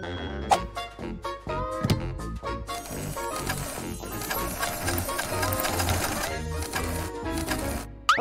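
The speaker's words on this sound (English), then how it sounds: "Wow, Sue, you're so good with the sewing machine!" A sewing machine stitching doll clothes runs in quick rattling bursts, then settles into a fast steady stitching whir, fairly close.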